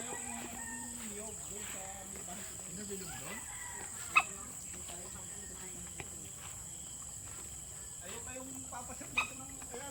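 Distant native chickens cluck and a rooster calls faintly over a constant hum of insects in rural Pililla, Rizal, with soft talking and a couple of sharp knocks.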